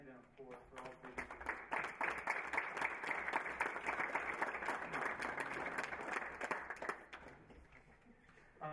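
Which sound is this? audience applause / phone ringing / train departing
audience applause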